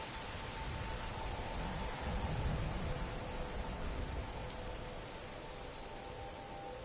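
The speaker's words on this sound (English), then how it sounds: "Oh my god, the rain is so loud." Heavy rain pours down in a dense, continuous roar, drumming steadily on a surface with no talking.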